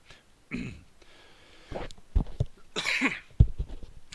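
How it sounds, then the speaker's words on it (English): Loud, close cough bursts from a person, a few harsh rasping hits clustered mid-clip with brief quiet gaps between them, heard alone without talk. "Pardon me, friends, for my loud, obnoxious cough right in your ears."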